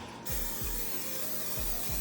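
A steady hiss of aerosol cooking spray onto a pan runs almost continuously at close range, with a few low thumps underneath.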